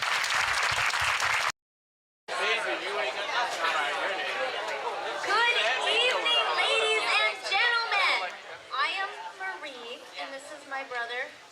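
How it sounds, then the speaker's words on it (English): Dinner audience applauding honored employees at a VA event, loud sustained clapping mixed with cheers and crowd chatter after a brief burst and gap, fading into voices toward the end. "Please join me in giving all of these extraordinary employees a round of applause."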